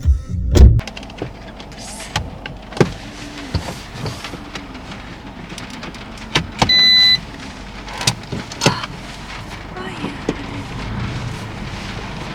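A small car sets off on a drive around the Greek island of Rhodes, with a low engine rumble, scattered interior clicks and thumps, and a brief whine, heard from inside the cabin.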